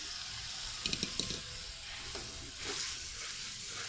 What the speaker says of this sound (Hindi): अब हम इसमें चिकन डालने लगे। छोटे छोटे क्यूब्स की शक्ल में कटे हुए चिकन है।